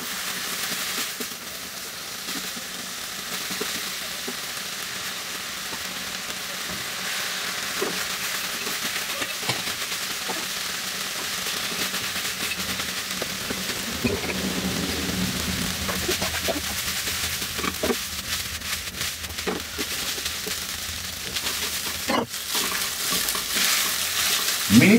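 Spicy vegetable fried rice with soy sauce is stir-fried in a pan. A soft, steady sizzle runs under repeated scraping and tossing clatters from stirring, fairly faint and continuous for a long stretch, with no talk.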